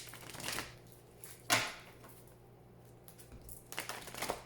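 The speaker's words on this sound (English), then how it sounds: "Please think of your question as I shuffle the cards." Soft papery riffles and taps of oracle cards being shuffled in a few short bursts, quiet and close, with gaps of near silence between.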